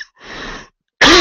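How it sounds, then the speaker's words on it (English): A single rough cough, short and fairly close, standing alone between silences and followed by a sudden loud burst of other sound. "That cough."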